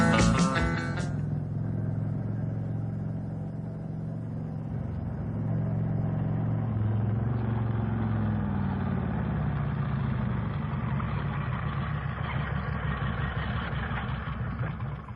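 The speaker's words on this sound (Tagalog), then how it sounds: "May motor man nga miabot." A motorcycle arrives, its mid-pitched engine droning steadily and fairly close as it idles and runs continuously, with no talk over it.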